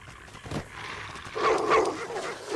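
A dog in the video game Fallout New Vegas, Old World Blues DLC, barks a couple of times at moderate distance over game background noise, with a brief, faint voice present.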